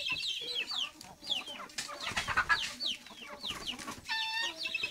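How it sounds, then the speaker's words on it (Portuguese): Chicks peeping with rapid, high chirps, several birds calling close by in quick overlapping bursts, with clucking from a hen mixed in. "Esse pintinho enche o saco com essa piação deles, a piarola dele."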